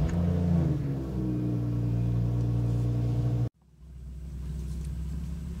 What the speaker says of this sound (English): Here's the first startup after the xHP stage 3 flash.